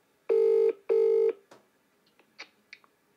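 A phone call being placed to a Spanish restaurant: two long, loud ringback tones in a row, followed by a few faint clicks and short electronic blips on the line.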